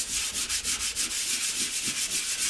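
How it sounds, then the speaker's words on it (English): Steady hand sanding of plaster filler on a plasterboard wall, a rhythmic scratchy rasp repeating in short circular strokes, close and fairly loud. "we'll just keep sanding it just to bring it round."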